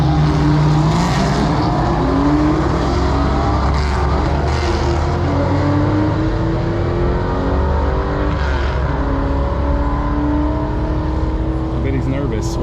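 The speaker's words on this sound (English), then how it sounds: "Let's see if he can do a little bit of a burnout" Loud, continuous roar of a Chevrolet Impala SS at a drag strip doing a burnout, steady engine drone with rising harmonic sweeps throughout, heard close and alone without talk.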